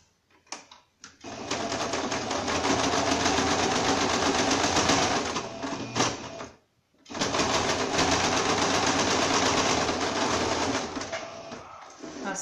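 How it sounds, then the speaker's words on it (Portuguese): Sewing machine stitches a straight seam through lining fabric for a small handbag, two long runs of rapid, close mechanical clatter separated by a brief pause. "Passei a costurinha."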